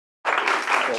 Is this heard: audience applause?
yes